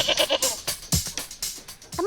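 An Etawa Senduro contest goat bleats in several short, loud, wavering cries in quick succession, close by, with a little background noise between them.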